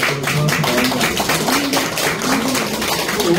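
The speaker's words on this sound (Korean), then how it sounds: "박수 치세요." Lecture audience applauding, a steady busy patter of many hands clapping together at moderate volume, with a voice faintly heard speaking underneath.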